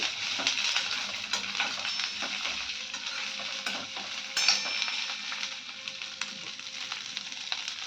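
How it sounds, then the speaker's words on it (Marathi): Mixed vegetables stir-fried in hot oil for a Bhogi festival bhaji, a continuous crackling sizzle with frequent scrapes and taps of the spatula, close and busy throughout. "वाफेवरती जरा या भाज्या परतल्या असं जरा शिजतात पण लवकर आणि चव छान येते"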